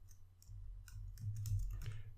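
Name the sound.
typing a command on a computer keyboard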